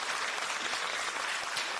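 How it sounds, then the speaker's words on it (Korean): A crowd at a Democratic Party of Korea event claps steadily, a dense even wash of applause with no breaks and no voices over it. "고민정 최고위원께 큰 박수 부탁드립니다."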